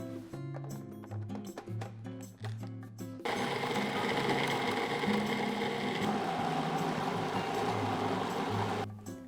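A ground meat mixture with bacon is pureed until smooth for homemade gyro meat. After some clattering and clicks, a loud, steady motor whir runs for about six seconds, then stops abruptly.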